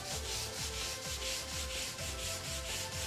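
A brass brush scrubs a rough, uneven concrete floor coated with brass cleaning powder, giving a steady close rasping sound with regular back-and-forth strokes, alone with no voices.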